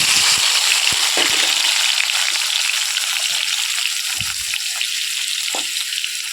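Onions and tomatoes frying in a kadai for a Tamil bottle gourd sambar: a steady, bright sizzle with a few soft stirring clatters, loud and close, with no one speaking.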